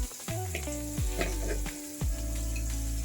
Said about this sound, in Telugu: ఆనియన్ బ్రౌన్ కలర్ వచ్చే వరకు వేయించుకుంటాం